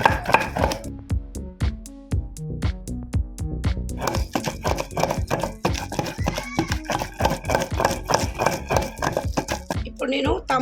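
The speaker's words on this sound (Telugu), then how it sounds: "ఆకుకూర వేసేస్తున్నా రోట్లో చాలా బాగుంటాయి ఇట్లా రోట్లో నూరుకొని తినాలి" Amaranth leaves pounded and ground in a stone mortar for a chutney, giving steady rhythmic knocks and scrapes of stone on stone, close and clear, with a voice alongside.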